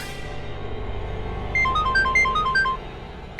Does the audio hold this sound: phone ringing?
yes